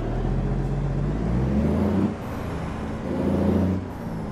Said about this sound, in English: Just gotta put a little bit of pressure on the brake pedal then